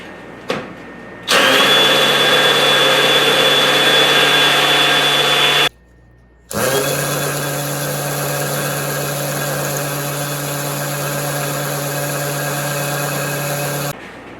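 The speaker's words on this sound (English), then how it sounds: "we are drilling through a slump block, and this is a hammer drill, why don't we leave it in speed 1, but we go into hammer mode" DeWalt DCD998 hammer drill running in hammer mode at speed 1, boring into slump block: a loud, steady buzzing drone in two long bursts separated by a short pause, with no talking.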